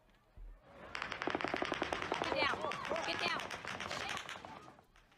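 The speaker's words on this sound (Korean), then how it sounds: "무시무시한 기관총 소리가 또다시 공연장 일대를 흔들어대고 공포와 혼란은 극에 달합니다" Sustained machine gun fire near a concert venue rattles in rapid bursts lasting several seconds, sounding distant and echoing, with faint crowd noise around it.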